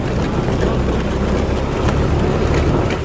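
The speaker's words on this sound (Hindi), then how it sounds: "तो अभी दोस्तों ये है स्नो स्कूटर।" A snow scooter's engine roars loud and steady at close range in Solang Valley, a constant broadband rumble mixed with wind buffeting the microphone and no talking.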